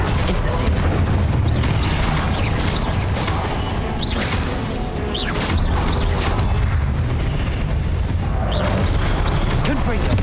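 Incendio fire spell cast again and again in Hogwarts Legacy, loud booming bursts and crackling blasts that repeat every second or so amid other spell effects, close and forceful throughout.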